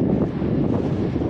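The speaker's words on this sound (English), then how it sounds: "Very windy day, very cold." Strong, cold wind buffets a mountain top around Ben Vorlich and Stuc a'Chroin in the Scottish Highlands. It makes a steady, dense low roar of rumbling gusts against the microphone, with no voices.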